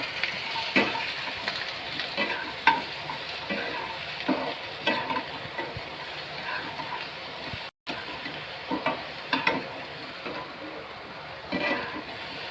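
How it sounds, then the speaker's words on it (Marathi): Onion, tomato, ginger and garlic roast in a hot kadhai for a paneer masala gravy, giving a soft, ongoing sizzle broken by repeated stirring clinks and scrapes, with a brief silent gap partway through. "चांगलं भाजून घेऊया."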